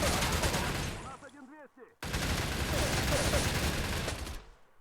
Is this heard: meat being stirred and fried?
no